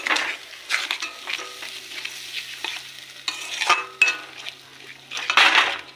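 Prawns stir-fried with ground garam masala in a pan, a spatula scraping and stirring steadily over a soft sizzle, with occasional metallic clinks against the pot, close and fairly loud, no talking.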